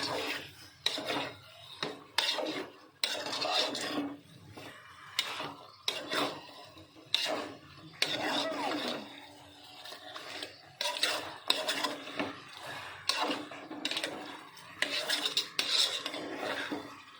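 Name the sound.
stirring humba pork hock with garlic and onion in a pot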